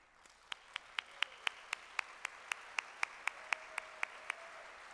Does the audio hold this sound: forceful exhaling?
no